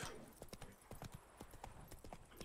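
Horse hooves clip-clop in a steady, quick rhythm in The Witcher 3, fairly faint, with a low game ambience beneath.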